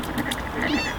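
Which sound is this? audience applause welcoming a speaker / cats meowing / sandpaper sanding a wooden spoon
cats meowing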